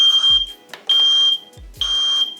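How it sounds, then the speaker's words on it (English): A smart smoke alarm, not yet connected to Wi-Fi, sounds its test mode: three loud, close, sustained piercing beeps with short gaps, alone in the room. "that's not the maximum siren or alarm sound coming out of this thing"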